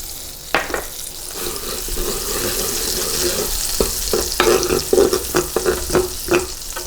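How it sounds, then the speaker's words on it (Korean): Butter sizzles and crackles in a preheated pan as it is stirred and broken up, with scattered sharp spatters and clinks over a steady frying hiss, no voices. "자, 버터를 넣으면서 버터를 이렇게 풀어주시면 되죠."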